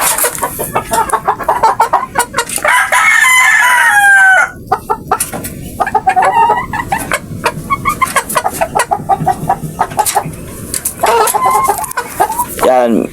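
Chickens cluck and cry close by, a laying hen with her growing chicks, in busy overlapping calls, with a rooster crowing partway through amid farmyard bustle.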